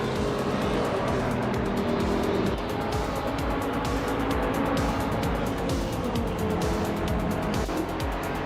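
A Dodge Viper GTS ACR race car engine in a video game drones loud and constant, its pitch rising and dropping through gear shifts across the whole stretch.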